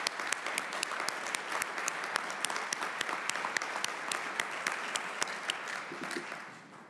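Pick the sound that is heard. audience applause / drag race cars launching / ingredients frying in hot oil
audience applause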